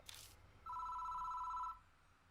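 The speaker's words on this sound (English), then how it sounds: "The phone begins to ring." A phone in a haunted phone booth in the Death Mark horror video game rings once: a single steady electronic trill, clear and fairly close, after a brief burst of noise, then quiet.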